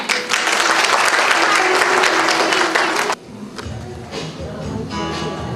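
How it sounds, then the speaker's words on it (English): A school music festival audience in Pampore, Kashmir applauds the school choir: loud, dense clapping for about three seconds that cuts off abruptly, followed by quieter, sparser sound. "So let's have a round of applause for them."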